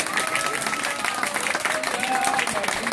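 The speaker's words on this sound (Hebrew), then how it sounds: "כפיים, רבותיי, כפיים." A crowd claps and cheers in steady, dense applause at a Messiah ben David proclamation at King David's Tomb, with voices mixed into the clapping throughout.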